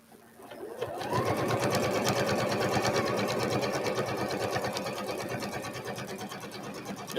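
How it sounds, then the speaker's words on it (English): A sewing machine stitches binding onto a pumpkin-themed quilt, running in one steady, fast continuous burst after a brief start, loud and close with a rapid needle rhythm throughout. "This is how you sew on a binding."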